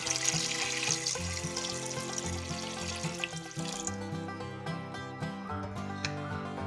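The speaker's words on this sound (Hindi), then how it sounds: "ये पानी शामिल करेंगे।" Water pouring from a tap into a cooking pot of meat being set to boil for chana dal gosht, a continuous splashing stream heard close up against a background of music.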